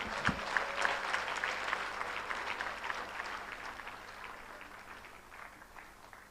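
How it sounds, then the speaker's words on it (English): An audience at a Kenyan political event claps after a speaker finishes, a dense burst of applause that starts strong and gradually thins and fades over several seconds. "Deserve a better round of applause"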